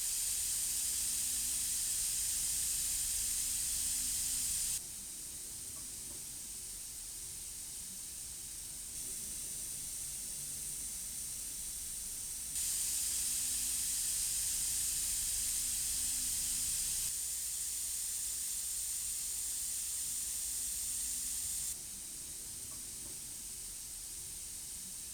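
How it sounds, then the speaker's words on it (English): Two Iwata airbrushes, a Revolution and then a Micron, each spraying at 30 psi: a steady, close airy hiss in alternating bursts several seconds long that shift in loudness and brightness, with no voices. "I'll first start out with the Iwata Revolution spraying at 30 psi, and then I'll switch over to an Iwata Micron spraying at the exact same psi."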